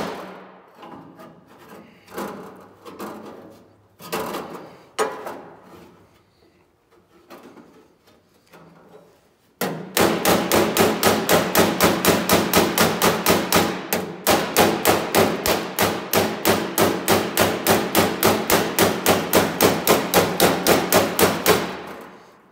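Sparse metallic taps, then a long run of rapid, evenly spaced hammer-and-dolly blows shaping a sheet metal door skin patch panel, loud and close, ringing sharply with each strike.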